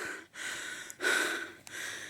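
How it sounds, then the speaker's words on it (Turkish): Close, heavy breathing in quick gasping bursts, with loud exhales and short pauses between, no talking. "Hala nefes nefeseyim."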